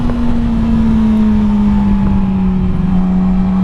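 A 2019 Yamaha R6 599cc motorcycle engine holds a smooth, steady high-pitched drone with a slightly falling tone, loud and continuous with no talk.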